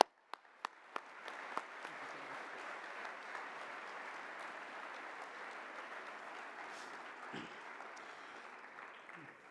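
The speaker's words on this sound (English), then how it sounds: "please join me in a round of applause for Sergeant Carter for his service to our country" An audience at a track and field coaches' convention opening session breaks into sustained applause for a sergeant honored for his service, starting with a few distinct claps that quickly merge into a steady, moderately distant wash of clapping.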